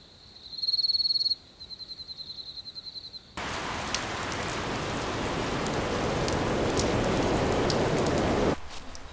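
Steady broadband rain hiss in a Bengali fairy-tale cartoon fills most of the clip, loud and continuous, following a few seconds of bright chirping insect-like tones before the downpour begins.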